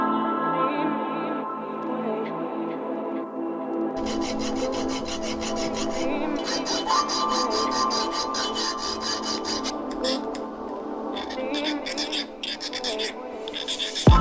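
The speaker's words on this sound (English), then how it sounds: "I file the sharp edges of the cut bolt" Hand file rasping the sharp cut edges of a shortened bolt for a bicycle trailer direct-drive mount, steady back-and-forth strokes running continuously, close and fairly loud over a constant background hum.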